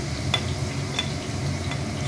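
Potatoes fry in a pan for motor keema, a soft continuous sizzle with a few light scraping stirs spaced through the short stretch.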